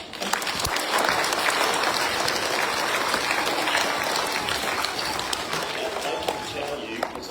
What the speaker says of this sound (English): so give them a huge clap